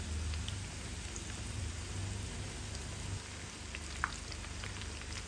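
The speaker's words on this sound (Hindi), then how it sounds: "इन्हें बैचेस में फ्राई कर लें।" Prawns frying in hot oil in batches give a steady, dense crackling sizzle with a brief sharper pop near the end.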